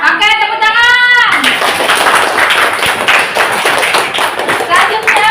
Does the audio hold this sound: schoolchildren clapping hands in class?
yes